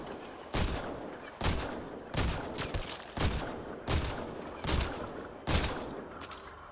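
Pistol fire from the 2017 game Mass Effect Andromeda, eight evenly spaced loud single shots about a second apart, each with a short decay, alone without talk.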